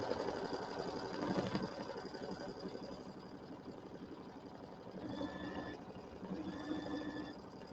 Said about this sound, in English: it's the second step we're going to sew out, is going to be the tack down line for our hat